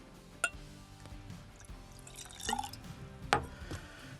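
Springbank 12 cask strength single malt Scotch whisky poured into a glass, with a soft liquid trickle and a few sharp clinks of glass, close and quiet without talk.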